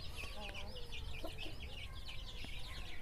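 Bhimavaram chicks newly bought and carried in a box, peeping in dense, overlapping high chirps against a steady noisy background, close and continuous with no speech.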